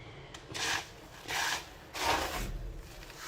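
Breadcrumbs being pressed and rubbed by hand onto raw chicken fingers, heard as three soft, close rasping rubs, each about half a second, separated by short pauses.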